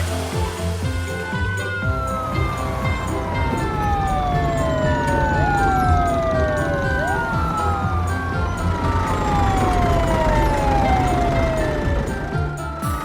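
Several wailing sirens from a cartoon ambulance, fire engine and police car overlap continuously, their pitches sweeping up and down, over a steady background rumble.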